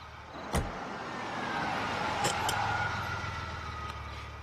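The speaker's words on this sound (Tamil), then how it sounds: "டிரைவர் வண்டியை நிறுத்து" A car pulls up and comes to a stop, its engine humming steadily with a passing whoosh of tyres and a sharp door-like click near the start, set in a street scene with no talk.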